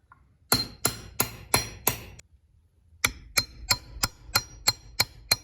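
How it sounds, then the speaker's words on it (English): A punch is hammered to flatten a bent clutch tab washer on a 1998 Suzuki RM 250 dirt bike. Five sharp metallic strikes sound, then a pause, then about nine more steady, ringing hits. They are close and loud, with no talking. "get you a punch, and you're going to flatten that washer back out"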